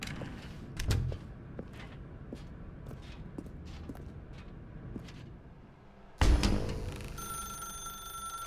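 Telephone in The Stanley Parable begins ringing abruptly near the end, a bright, loud trill after a quiet stretch of soft footsteps and room ambience.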